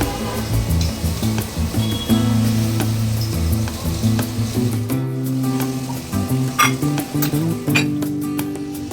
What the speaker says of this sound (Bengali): সবজি ভাজার আগে প্রথমে ফুলকপি, লঙ্কা আর কড়াইশুঁটিটাকে ভেজে নিচ্ছি